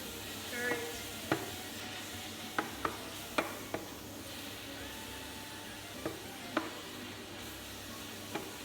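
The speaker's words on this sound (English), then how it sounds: "Garlic is already with all the olive oil flavor, so mix everything together." Spinach and garlic stirred in hot olive oil while sautéing, giving a soft steady sizzle broken by sharp scattered clicks and taps of the utensil against the pan, close and fairly quiet.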